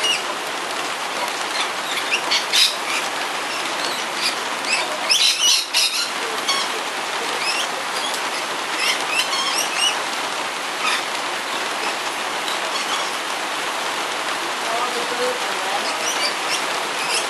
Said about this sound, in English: It's pouring with rain, around 100 plus mils overnight since 9 o'clock last night.